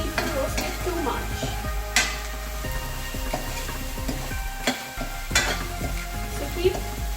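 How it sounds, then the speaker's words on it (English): Chopped onions sizzle loudly in a hot pan on high flame while being stirred for street-style pav bhaji, with a spatula scraping and clinking against the metal throughout. "we need to roast the onion on high flame, but we do not need to roast it too much."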